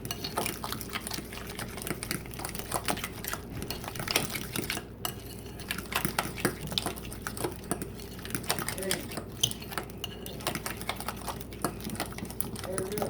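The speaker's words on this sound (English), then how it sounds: "Stir it." Guacamole stirred in a bowl, a quick run of close clicking and scraping taps of a utensil against the bowl, with soft talk in the background.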